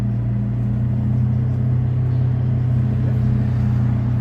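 Inside city bus number 13 while it travels, the engine gives a steady, loud low drone and hum that stays even throughout, with no talk over it.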